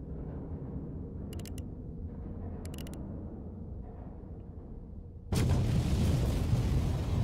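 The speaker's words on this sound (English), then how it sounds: "The wire's connected to the stick of dynamite in the detonator. Everything's ready for the explosion." After several seconds of quiet ambience with faint clicks, a sudden loud dynamite explosion bursts out and leaves a sustained, roaring rumble.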